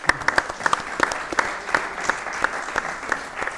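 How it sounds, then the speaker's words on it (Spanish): A burst of applause, scattered hands clapping at a brisk, uneven pace, fairly close, with a few sharp individual claps standing out. "Un aplauso a Bea también."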